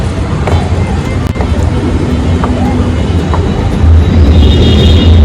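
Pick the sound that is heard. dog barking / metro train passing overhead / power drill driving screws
metro train passing overhead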